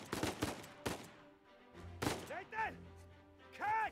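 Gunfire in the Uncharted action game: several sharp broadband shots in the first second, then irregular impacts and whooshing game effects, with players talking over the action.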